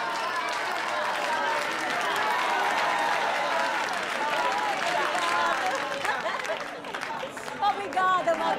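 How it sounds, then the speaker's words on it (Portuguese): A birthday celebration crowd at a night show claps and cheers, a continuous dense applause mixed with chatter and voices that thins slightly near the end. "Palmas pra ela!"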